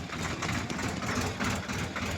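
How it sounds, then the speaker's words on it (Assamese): A tractor engine runs steadily nearby, a continuous low rumbling drone with no voices over it. "ফ'ৰ হুইল ট্ৰেক্টৰ চলাই আছে"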